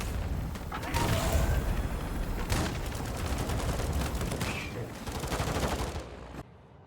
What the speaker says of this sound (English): Definitely heard somebody shooting.